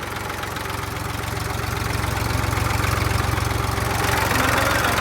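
A Massey tractor stuck in a muddy field, its engine running with a loud, steady low diesel throb and rumble that gradually builds slightly in intensity, close by with no talk.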